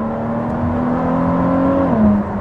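A Ford GT sports car with a new Quicksilver Inconel exhaust revs loudly and steadily, its tone climbing slightly before dropping, with no talking.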